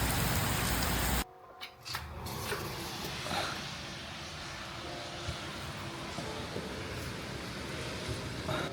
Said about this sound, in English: Man, third day it's raining,